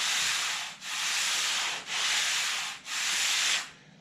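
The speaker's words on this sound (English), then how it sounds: "So this is my hand running against the panel that hasn't been sanded." A hand rubbing back and forth across an unsanded Datsun 510 passenger door panel, four long rough scraping strokes with brief pauses between, close and steady.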